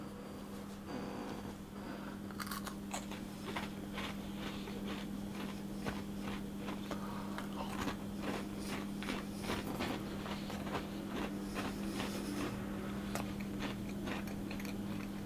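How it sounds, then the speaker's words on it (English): A series of sharp crisp snaps and crunches, a homemade wholemeal honey biscuit broken and then bitten, over a steady low hum. "I'll break this one so you can hear how it breaks"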